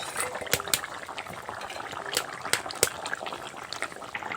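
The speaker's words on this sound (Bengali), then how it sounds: "মাছগুলো দিয়ে পাঁচ মিনিট মতন আমি ফুটিয়ে নিয়েছি" Chang fish curry with potatoes bubbles steadily in a pot, a close, continuous gurgling simmer punctuated by a handful of sharp popping bursts.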